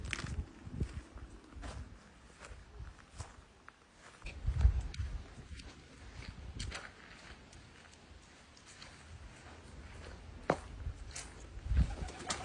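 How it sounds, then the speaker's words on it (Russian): Pigeons coo softly among the damaged private houses of a near-empty frontline town in Ukraine's Donetsk region, faint and distant low calls rising now and then over quiet outdoor ambience and a few scuffing footsteps. "Голуби є, бачите."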